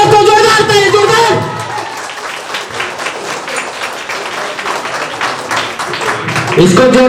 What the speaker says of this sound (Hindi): दोस्तों जोरदार ताली, जोरदार।